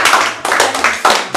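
A few pairs of hands clap in quick, uneven bursts close by, giving a sparse round of applause for a man being honored at a gathering.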